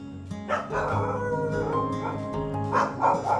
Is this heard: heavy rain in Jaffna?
no